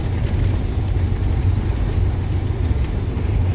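Cabin noise inside a moving bus travelling from Laxey to Ramsey on the Isle of Man, a loud, steady low engine and road rumble with no voices.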